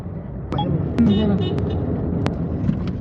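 A car joins the big highway road between Mecca and Medina, with a steady low engine and road rumble heard from inside the vehicle, a few faint ticks and clunks, and people talking over it.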